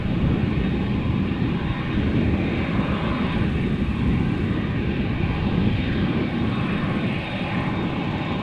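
Dreamliner jet airliner heading to Calgary at Amsterdam Schiphol, its engines producing a loud, constant broadband roar that holds steady throughout with no talk.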